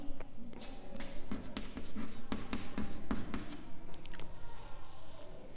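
Pen or chalk writing out a geometry solution during a class lesson, a close run of short scratchy strokes and taps with pauses between words, with no talking.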